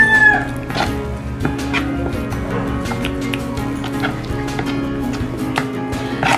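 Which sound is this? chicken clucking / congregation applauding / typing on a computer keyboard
chicken clucking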